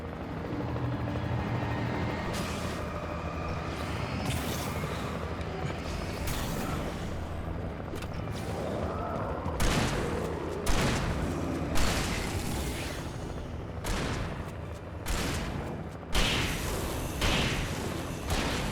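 Deep booms and blasts from an airstrike in the video game Alan Wake, a run of heavy explosions rolling under constant loud rumble, with a cluster of sharper bursts in the second half.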